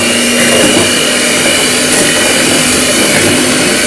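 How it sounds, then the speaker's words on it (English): An electric mixer whisks cake batter with sugar for a dragon fruit cake, a loud, steady motor whir with a constant high whine running unbroken throughout. "So we whisk until it has been well mixed."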